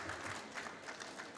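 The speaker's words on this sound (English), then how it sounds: "Let's clap for him as he comes." An audience claps to welcome a speaker at an agroecology event, a brief spell of quiet, distant applause with soft irregular hand claps.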